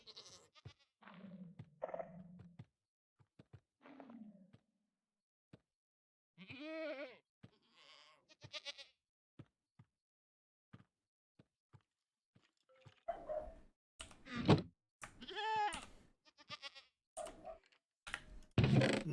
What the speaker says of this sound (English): Pretty sure you just heard a goat